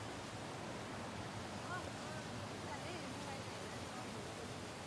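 Mahadev waterfall in Udaipur makes a faint, steady broadband roar of falling water, a continuous hiss with no breaks, heard from some distance with possible faint voices around.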